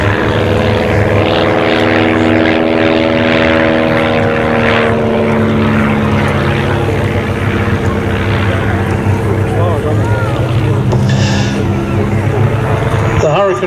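Propeller warbird engine drone at an evening airshow, likely a vintage fighter such as a Sea Hurricane or Spitfire Mark 1 beginning an aerobatic display, steady and loud throughout, with changing pitch as it passes and a commentator talking over it.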